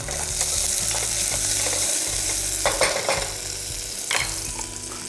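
Minced aromatics such as garlic and lemongrass sizzle steadily in a hot pan for a tofu bánh mì, with a spoon scraping and stirring through them and a few sharper clacks of utensil on metal.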